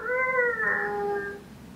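A single cat meows once in a long, drawn-out cry that bends downward in pitch and fades, heard fairly close in a quiet space. It may be a person imitating a cat.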